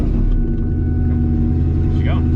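Idling Ford Mustang GT V8 with a DNA Motoring catback exhaust, a deep steady burbling rumble held close and even, with a brief higher whine near the end and a voice faintly underneath.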